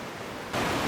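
A creek flowing nearby, heard as a soft, steady rush of water that jumps suddenly louder about halfway through and then holds at that level, with no talking.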